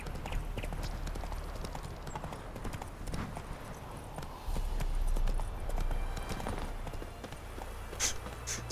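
Geralt rides his horse in the video game Witcher 3, hooves clip-clopping at a brisk run and then slowing as he dismounts, with a few louder thumps near the end.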